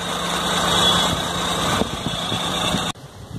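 A Maruti 800 car engine idles in a steady close hum with faint ticking, then cuts off abruptly, leaving near silence.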